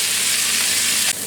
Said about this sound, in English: I'm just going to let that brown off for another 5 minutes